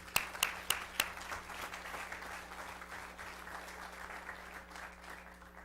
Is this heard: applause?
yes